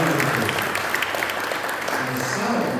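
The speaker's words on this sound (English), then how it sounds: "Please, one more round of applause." Sustained applause from a concert audience in a resonant London hall, steady and fairly loud, a dense wash of clapping with no breaks.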